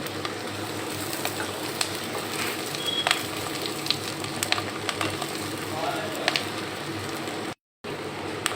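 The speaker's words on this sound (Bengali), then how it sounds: "সরিষার তেল নিয়েছি, সরিষার তেলে আমি পেঁয়াজটা একটু ভেজে নেব।" Onion frying in mustard oil in a pan, a soft steady sizzle and crackle with faint scattered pops, fairly quiet and continuous, with a brief dropout near the end.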